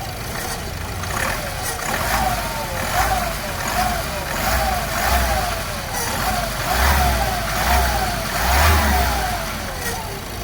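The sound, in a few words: Ford EcoSport Titanium 2017 engine revving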